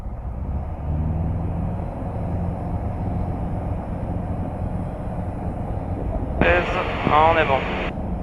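A TB9 light aircraft engine droning steadily in the cabin on final approach to runway 08 ahead of a go-around, with a radio or intercom voice breaking in near the end.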